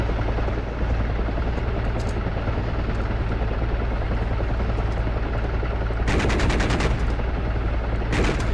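A helicopter in DCS World drones loudly and continuously while bursts of rapid fire from a 14.5mm gun crackle in, with two clear volleys near the end and faint shots earlier.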